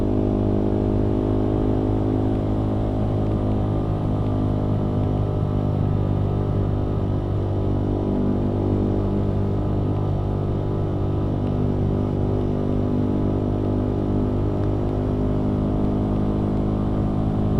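A Yamaha R9 motorcycle's loud exhaust drones steadily throughout while riding, a constant low engine rumble with rich harmonics and no pauses or talk.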